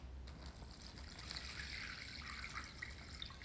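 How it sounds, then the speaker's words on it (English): Water trickles steadily from a container into a plastic bag, a soft continuous pour running for a few seconds at close range with no talking. "can you please pour the water into the bag?"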